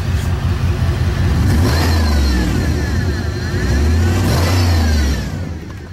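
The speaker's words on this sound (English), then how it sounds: "and now the car sounds different." An Impala SS with its nitrous kit removed revs loudly up close, its engine climbing twice in surging pulls with a deep exhaust drone that settles back between rises.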